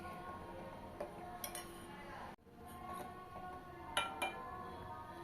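Dry fruits being stirred into semiya payasam, giving a few light metal clinks of a spoon against the pot over a soft room background with a brief dropout midway.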